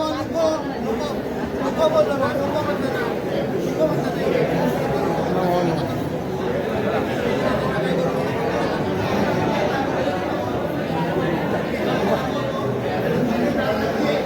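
A thick, steady babble of many people talking at once at a Pir Baba dargah urs, the crowded murmur holding evenly and close throughout.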